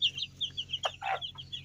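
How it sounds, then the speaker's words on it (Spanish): A young male chicken, a cockerel, gives soft clucks and short high chirping calls close by, quiet and intermittent over a faint low hum. "También aquí tengo un pollo, es macho"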